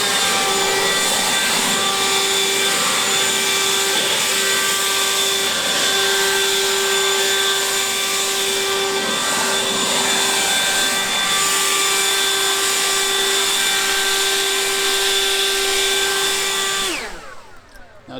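A Toro 60V FlexForce cordless leaf blower runs on its turbo setting, a loud steady whine with a constant pitched tone held for about seventeen seconds before it spins down at the end.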